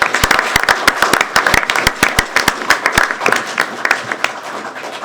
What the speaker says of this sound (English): nice round of applause for our newly sworn-in officers